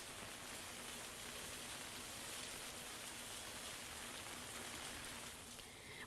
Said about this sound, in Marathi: नांदेडमध्ये पाऊस पहाटेपासूनच सुरू झालेला आहे